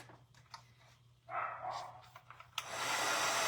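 Heat dryer blowing over a cardinal print on a repurposed cookbook holder to dry a pen mark, a steady whooshing airflow that starts quietly, then switches up louder and sustained, with small handling knocks in between.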